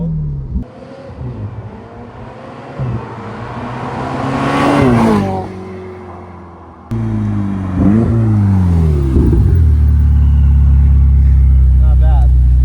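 A sports car engine roars close and loud as it launches and climbs through the revs, drops off abruptly when traction control cuts power midway, then surges and builds again into a heavy sustained drone.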